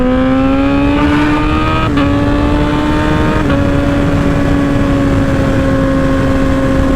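A Honda CBR1000RR motorcycle engine, running healthy after a DTC 33 fault was fixed, drones loud and close with a sustained tone that steps up in pitch at a couple of quick throttle changes. No one speaks.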